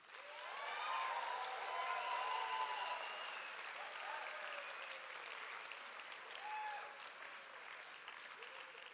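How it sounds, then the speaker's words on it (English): Audience applause at the TAUi graduate end-of-year ceremony, a dense sustained clapping from a large crowd, strongest early then easing slightly, with faint cheers or voices threaded through. "I would like for us to give another big, big round of applause to all of the students sitting before us today."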